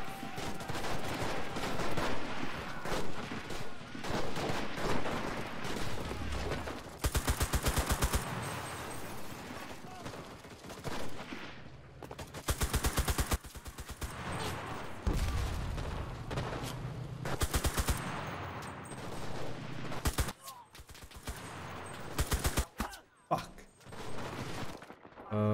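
Machine gun fire in the Enlisted World War II shooter, fired from a church bell tower: long loud bursts of rapid automatic shots with sharp cracks and pauses between volleys, mixed with battle noise.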